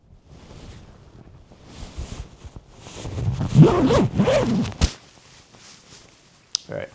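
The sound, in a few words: zipping up a TideWe Altus hunting jacket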